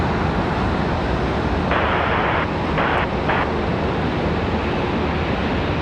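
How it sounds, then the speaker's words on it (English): An American Airlines A321 departs Charlotte airport with a loud, continuous broadband jet roar that holds steady throughout, with a few brief bright bursts of noise on top. "Our next departure up looks like an A321."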